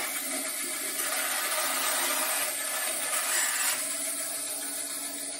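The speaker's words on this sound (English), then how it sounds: "So I cut it off with the bandsaw" A bandsaw cutting through a piece of wood for a guitar build, producing a steady, close rasping whine that holds for several seconds, then eases off slightly.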